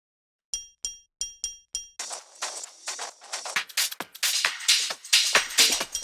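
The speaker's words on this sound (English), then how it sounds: "There's basically a bunch of live percussion." Live percussion loops in a minimal deep house track, opening with a few evenly spaced bright clinking hits, then building into busy layered clattering percussion that grows louder and denser.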